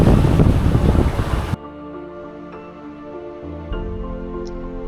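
Roughly 20-knot wind at sea aboard a sailboat, a loud blustery rush of wind and water for the first second and a half, then a quieter steady hum and creak of the boat, with no talking.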